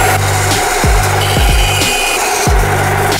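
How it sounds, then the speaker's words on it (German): A band saw cuts through wooden boards for a large DIY moss clock frame. There is a steady close whine of the blade, broken by several short rasping cuts and thumps as the wood is fed through. "Um das Ganze zu sägen, gehen wir an die Bandsäge."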